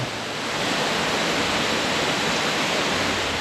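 Jaein Waterfall in the Hantan River canyon roars as a dense, unbroken wash of falling water, loud and close with no other sounds over it.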